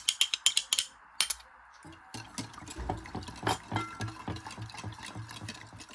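A spoon stirring a coffee jelly sago drink mixture, a quick run of bright clinks against the container at first, then softer rhythmic swishing and tapping of liquid, close and fairly quiet.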